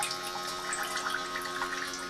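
Water pouring into a pot for milkfish soup, a steady continuous splashing stream at close range that holds level throughout, with no talk.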